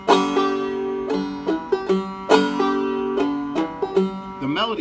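A clawhammer banjo plays a short riff from the old-time tune Ida Red, with bright plucked notes and clear rhythmic strums, close and alone.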